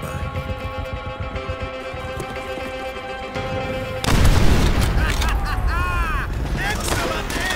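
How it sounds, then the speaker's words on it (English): A fuel tank explodes in the World War II shooter Call of Duty: World at War, a sudden loud, dense burst of blast and crackling fire following a stretch of steady music and game sound. "Exploding the fuel tank will incinerate anyone standing nearby."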